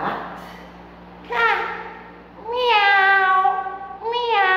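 A person imitating a cat with two drawn-out, bright meows separated by a short pause, loud and close, with a short vocal onset just before.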